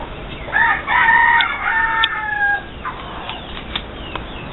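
Saphiro, a rooster, lets out one loud, close cock-a-doodle-doo lasting about two and a half seconds, trailing off into quieter farmyard sounds.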